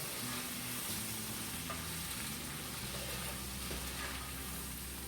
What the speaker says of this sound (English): you just mix that in